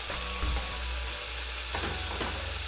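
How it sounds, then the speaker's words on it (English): Pork sizzling and frying in hot grapeseed oil in a pan while cooking Shanghai noodles, a steady close crackle with a few stirring knocks and no talking. "I'm going to drop in my pork. You hear that sizzle?"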